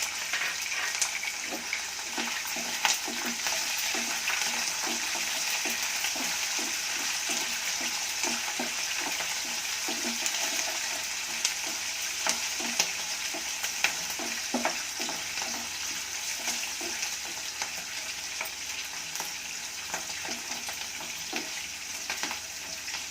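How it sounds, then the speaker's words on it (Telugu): Chopped green chilies and curry leaves sizzle and crackle in hot oil over a high flame, a steady broadband frying hiss with frequent sharp pops and a rhythmic run of spoon stirring taps, close and continuous without talk. "కట్ చేసిన పచ్చిమిర్చి ముక్కలు వేసి ఫ్లేమ్ ఎక్కువ పెట్టుకొని వేయించుకోవాలి."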